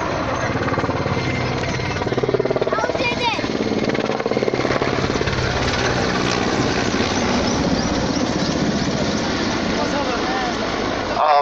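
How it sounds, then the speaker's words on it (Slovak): An Mi-171 helicopter flies at the Nitra air show, its heavy rotor chop and turbine roar loud and continuous throughout, with a commentator speaking over the noise. "ten vrtuľník samozrejme v žiadnom prípade nie je tichý"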